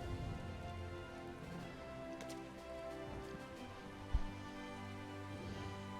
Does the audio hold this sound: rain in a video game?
yes